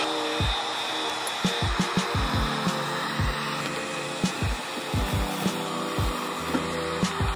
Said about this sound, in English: If you have existing graphics, it helps to heat them up with a heat gun when you need to peel them off.